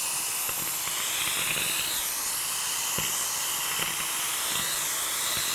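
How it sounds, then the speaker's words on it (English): Grooming clippers with a clipper vac attachment run with a steady, even suction hiss throughout, close and continuous, with faint clicks now and then. "What's nice about the clipper vac is it saves me a lot of time. It sucks that hair up"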